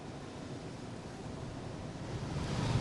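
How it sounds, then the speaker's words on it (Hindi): Strong wind blowing across an outdoor microphone at a news report in light rain, a constant low roaring rumble that swells slightly toward the end, with no talk over it. "बारिश तो बिल्कुल हल्की हो रही है, बल्कि तेज़ हवा चल रही है"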